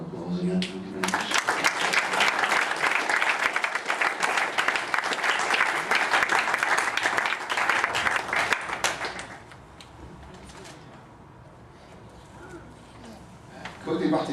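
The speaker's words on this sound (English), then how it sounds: "A round of applause again, thank you very much" Loud, dense applause from guests after a groom's wedding speech, sustained for about eight seconds before fading to quieter room murmur and faint talk.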